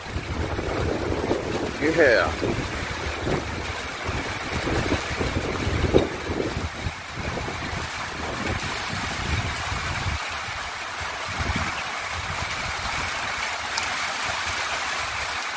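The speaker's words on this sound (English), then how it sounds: "It's getting windy too." Wind rushes around a house during a massive thunderstorm with rain, a continuous rough roar and gusts buffeting the microphone, while someone briefly speaks.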